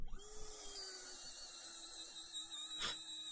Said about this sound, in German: Hä, wie schnell kann der bohren? Mit Hand.